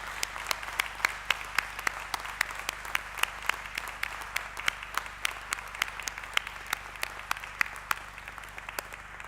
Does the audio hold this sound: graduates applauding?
yes